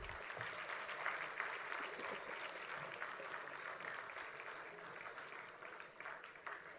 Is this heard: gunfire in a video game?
no